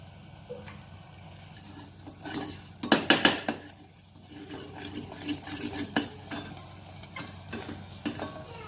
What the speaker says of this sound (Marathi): हलवून घ्यायचा आहे मसाला.